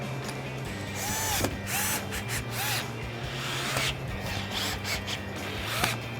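A power drill or driver runs in steady bursts while bolts on a Bestop TrekTop NX soft top mount for a Jeep Wrangler JK are tightened down, with a whirring motor and ratcheting clicks close by.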